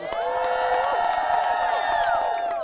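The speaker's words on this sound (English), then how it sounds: "Give her a round of applause." A crowd at an outdoor public-school event whoops and cheers, with applause mixed in, as a guest is welcomed to the podium. The sound is loud, dense and sustained throughout, with a few voices rising above the rest.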